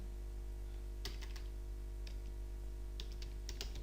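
Typing on a computer keyboard, a few quick bursts of light key clicks separated by pauses, close and fairly quiet over a steady low electrical hum.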